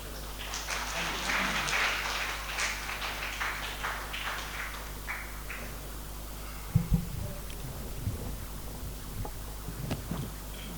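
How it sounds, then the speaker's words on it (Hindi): Audience clapping at a poetry mushaira as a young poet takes the microphone, a burst of applause that fades within a few seconds, followed by handling thumps and low rumble from the stage. "और आपकी ज़ोरदार तालियाँ।"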